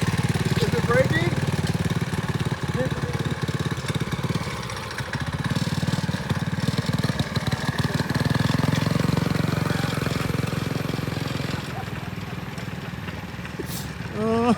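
A small engine fitted to a motorized barstool runs and revs unevenly, its loud buzzing drone steady throughout with brief surges and dips, close to the listener.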